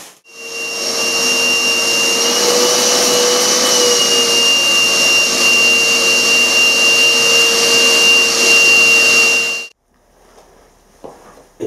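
A vacuum cleaner runs steadily and loudly with a constant whine for about ten seconds, sucking metal swarf off a lathe in a workshop, then cuts off abruptly, leaving a few faint clicks and knocks.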